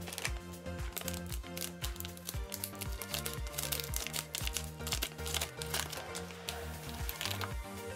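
Crinkling plastic wrapper of a Demon Slayer Choco Balls snack package being opened, with dense close rustling and crackling over steady background music.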